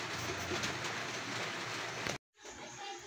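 Steady rain pours down outside a house in the Philippines, a dense hiss filling the air for about two seconds before a brief dropout, then resuming at a lower level.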